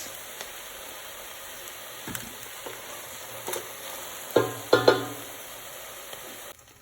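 Mushrooms cooking in a pan for a vegan Zuppa Toscana, a soft steady sizzle broken by several scraping and clattering stirs, the loudest near the end.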